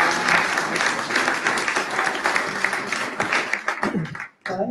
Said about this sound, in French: Je vous invite à les applaudir.